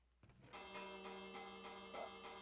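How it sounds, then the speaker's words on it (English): Two bells ring in a Minecraft loop contraption, a soft tonal chime sustaining and retriggering in a steady repeating pattern, faint and alone. "And there you have it. 2 bells."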